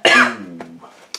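One sharp, loud cough bursts out close to the microphone, followed by a brief raspy tail and a small second throat sound.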